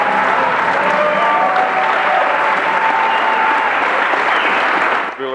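A standing audience applauds at length in a concert hall after a song at a 2018 Chicago concert. The clapping is dense, loud and steady throughout and eases slightly only at the very end.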